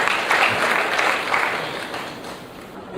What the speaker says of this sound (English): Let's have a round of applause for him, please